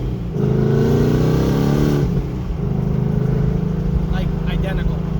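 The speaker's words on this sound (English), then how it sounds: "The inside of the car, it sounds exactly like a 2015 to 17 Mustang" A 2019 Ford Mustang fitted with long-tube headers and a stock catback revs from inside the cabin. A deep engine roar rises, dips and rises again over several seconds, with someone talking over it.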